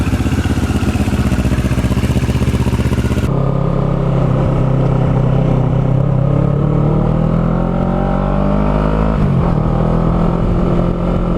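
A 2009 Kawasaki Ninja 650R fitted with a Yoshimura TRC exhaust is ridden, its loud, close engine note rising and falling through revs and gear changes, with steady wind rush and no talk.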